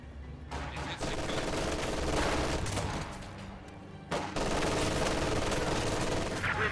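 Sustained bursts of gunfire and rattling machine-gun volleys from a real-time strategy battle with Panzer Grenadiers under fire, loud and dense throughout, with a brief lull in the middle before the firing swells again.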